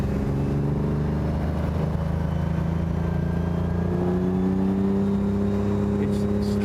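The engine of the sixth production classic Lamborghini hums under steady load with a sustained tonal drone that rises slightly in pitch toward the end, heard from inside the moving car.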